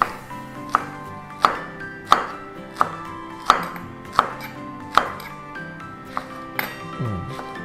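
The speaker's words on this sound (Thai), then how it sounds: "สิ่งที่ทำเพิ่มเติมนี่คือพริก3สีนะซึ่งเดี๋ยวจะ หั่น ให้เป็นป้องๆ" Knife blade chopping chili peppers on a cutting board in a steady, even rhythm, about ten sharp chops with a ringing clink, close up.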